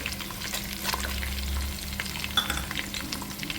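Peanuts, roasted chana dal and cashew pieces stirred in a hot pan for chivda, giving a soft, steady sizzle with light scraping and rattling close by, with no voices.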